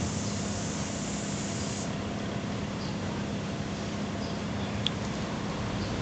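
A steady hiss of spray paint on a Gunpla model kit part runs continuously over a low background hum, close and unbroken.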